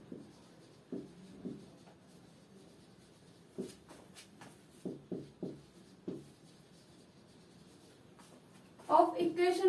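Pen or chalk scratching out a partial differential equation by hand during a math lesson, in short intermittent strokes and taps, fairly faint, with a brief louder scrape near the end.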